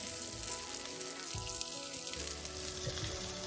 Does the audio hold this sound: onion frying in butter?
yes